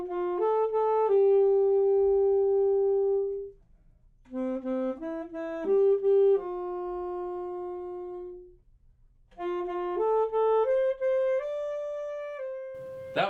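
A horn plays a song as a slow solo melody in sustained phrases separated by short pauses, at a school name-that-tune game. The instrument sounds clear and alone at a moderate level.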